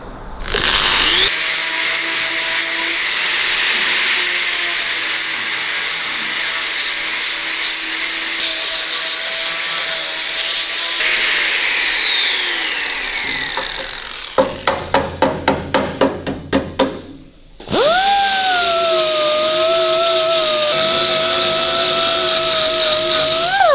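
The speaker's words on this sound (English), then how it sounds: "Give that a little grind up now." A power tool grinds a metal part from a 1941 Kubelwagen restoration, a loud steady abrasive whine running for long stretches, broken by a quick burst of rattling impacts before the grinder winds back up.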